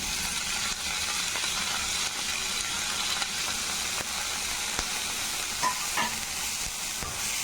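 Chopped cabbage fries in a pan with a soft, steady sizzle, while a spoon stirs it in scraping strokes that recur every second or so.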